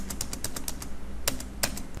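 Computer keyboard keys are pressed while entering an Excel 365 formula, giving light, close clicks in a quick run of about eight taps, then a pause and two sharper presses near the end.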